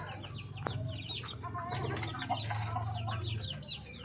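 Darag native hens clucking steadily at close range, a flock of short overlapping calls over a continuous low hum, with no voices.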